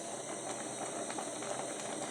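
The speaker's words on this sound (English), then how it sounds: "I'm going to drain this water" Spaghetti cooking water being drained from a pot makes a steady, loud rushing hiss of pouring water that runs without a break, with no voices.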